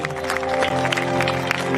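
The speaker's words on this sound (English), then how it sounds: "can you just applaud for you coming out for love today?" Steady applause from an audience at the Love+Unity 2023 live event, a brief dense wash of clapping with music sustained underneath.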